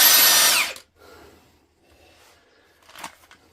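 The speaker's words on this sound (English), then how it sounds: "That's a new high torque wrench." A Milwaukee M18 high torque impact wrench runs in one loud, close burst for under a second and then cuts off, leaving quiet handling noise and a brief knock near the end.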